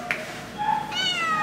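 A shelter cat meows in a cat room, one drawn-out, rising and wavering meow that is close and clear over a soft room hum.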